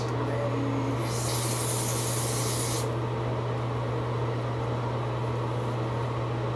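Hair spray misted onto a honey blonde wig during an install, a soft hissing burst lasting under two seconds over a steady low hum of room noise.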